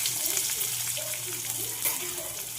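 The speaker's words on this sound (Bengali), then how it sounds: "তেলটা আগে বড়া ভেজেছিলাম সেই তেলেরটা, এদিকে পেঁয়াজ দিয়ে দিলাম" Onions fry in hot oil that was used before for frying fritters, giving a continuous, even hiss with a low steady hum beneath it.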